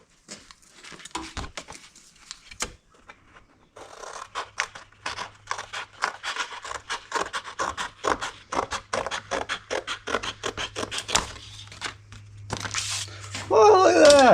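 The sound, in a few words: cutting sheet metal for a hand-made patch panel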